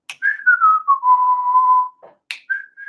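One person whistles a short tune up close, clear pure notes gliding down in pitch, then a long held tone, a brief pause and a fresh phrase starting.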